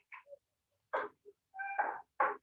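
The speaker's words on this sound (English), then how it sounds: "That's the cat calling for food." A domestic cat meows repeatedly for food, several short separate calls with pauses between them, close and fairly quiet in an otherwise silent room.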